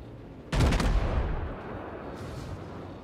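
Heavy warship main battery guns fire in World of Warships, a sudden loud booming salvo that rolls into a long, rumbling decay lasting a couple of seconds, with no speech.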